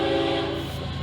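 Two freight trains meeting on the rails, with a loud, steady horn tone over the rumble and faint wheel clicks, heard up close.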